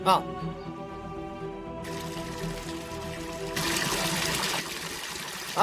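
Water trickling from a motor-fed supply running on a generator, a soft steady flow heard under a sustained tone and background sound, rising slightly in the middle of the clip.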